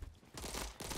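Pistol shots in the online shooter Bad Business come in two quick, rapid-fire bursts separated by a brief gap, faint and compressed with no voices over them.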